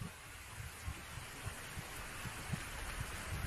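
Rain falls steadily in a video game scene, a soft constant hiss under a tea house overhang, with low soft thumps pulsing beneath it like a heartbeat.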